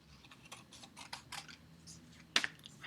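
Scissors snipping paper shapes in half, a quick run of light crisp cuts followed by a couple of sharper snips, close and fairly quiet.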